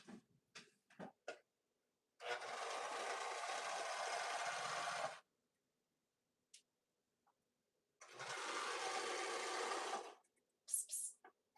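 A serger or sewing machine stitching fabric for an outfit runs in two sustained bursts of about three and two seconds, separated by quiet gaps with scattered small clicks and handling noises nearby.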